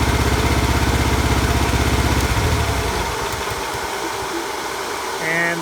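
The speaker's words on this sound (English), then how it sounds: "this is the most basic model with the gasoline engine" A small gasoline engine on a 1-ton Chinese mini excavator idles with a loud, steady throb up close, then shuts off partway through, leaving a quieter room tone.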